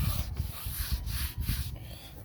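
Rust being scrubbed off a rusted brake rotor before turning, a steady close abrasive rubbing with brief pauses, no talking.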